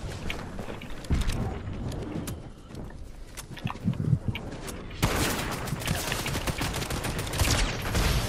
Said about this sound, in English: We both have the same shotgun, but I have the mythic.